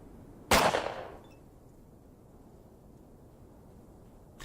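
A single sharp gunshot in the post-apocalyptic video game ATOM RPG, loud and close, with a short ringing decay before a quiet, steady background hum.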